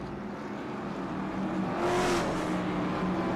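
Late model race cars running on a track during a showdown event: a steady engine drone with one car swelling louder as it passes near the middle, then easing back.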